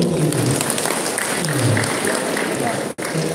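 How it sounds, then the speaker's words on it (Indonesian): Applause at a parish thanksgiving in Kupang for seventeen RVM sisters marking 25 years of religious life: a loud, steady crowd clapping with a voice audible within it, then a brief dropout just before the end. "Mari kita tepuk tangan dulu untuk itu."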